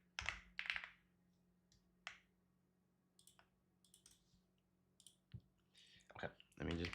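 Scattered computer keyboard keys click quietly and irregularly in short taps and small flurries, with someone talking at times beside the keys.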